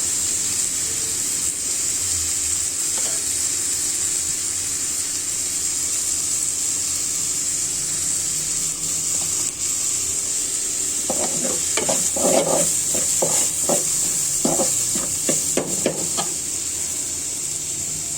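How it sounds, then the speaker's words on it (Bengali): Lentils frying in a pan with turmeric and chili powder: a constant close sizzle, joined midway by a cluster of scraping, clattering stirs against the pan before it settles back to an even hiss. "ডালটা ভাজা হয়ে গিয়েছে"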